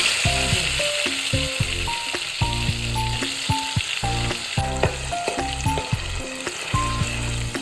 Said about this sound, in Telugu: పేస్ట్ అంతా ఈ ఆయిల్లో వేసుకుందాం.